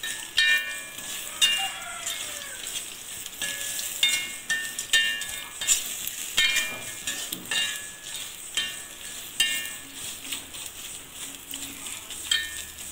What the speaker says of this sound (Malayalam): ഇപ്പോൾ ലോ ഫ്ലെയിമിലിട്ട് ഇളക്കിയാൽ മതി.